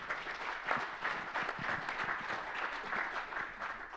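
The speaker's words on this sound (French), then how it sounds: "Bravo Malik, on peut l'applaudir." An audience applauds a speaker named Malik at the Emerging Valley 2017 gathering on African digital startups, a steady, moderately loud patter of many hands that continues for the whole stretch.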